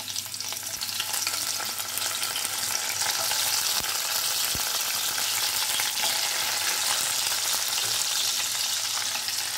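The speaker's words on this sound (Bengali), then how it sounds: "এটাকে ভেজে নেব, আমি এটাকে একটুখানি ফ্রাই করে নেবো" Chopped onion, ginger and garlic fry in about three tablespoons of oil in a wok (kadai), giving a continuous loud crackling sizzle with faint stirring clicks, close up and without speech.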